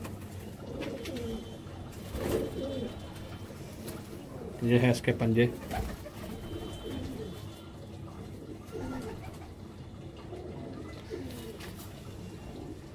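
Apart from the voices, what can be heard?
pigeons cooing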